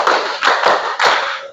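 A group claps together in a quick pattern of four loud, crisp claps, close by, with no voices.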